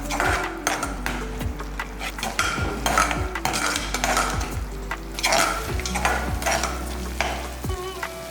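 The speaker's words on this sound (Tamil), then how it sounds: "அது வரைக்கும் நல்லா வதக்கணும்." Tomato paste sautéing in a pan for vegetable kurma, with a steady soft sizzle and repeated sharp scrapes and clinks of a spoon stirring against the pan, close up with no talking.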